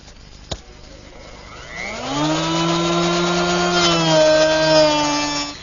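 A handheld router with a guide fence attached shapes the top of a wooden flagpole, a block riding a straight edge; the motor spins up with a rising whine into a steady, loud harmonic drone that holds close until the end.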